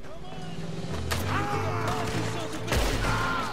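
Enemy gunfire in Red Dead Redemption 2, a few sharp distant shots cracking over a low rumbling background.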